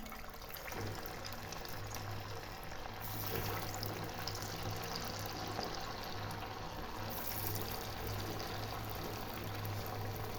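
Sabudana vadas lowered into hot frying oil give a steady, broad sizzle and bubbling hiss that holds at a constant level throughout, with no talking.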